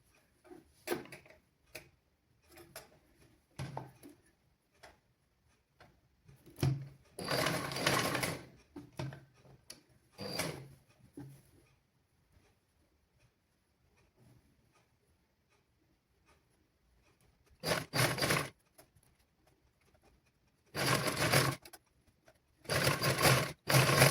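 A sewing machine stitches a seam on children's clothing in bursts: short runs of rapid ticking separated by pauses, then longer sustained whirring passes near the end, close and moderately loud with no voices.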